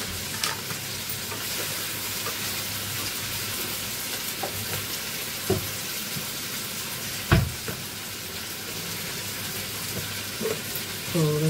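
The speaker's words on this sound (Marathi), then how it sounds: "म्हणजे मसाला लवकर भाजला जाईल." Coriander and cumin masala dry-roasts in a pan while being stirred, giving a quiet, steady hiss with occasional soft scrapes and clinks of the spoon.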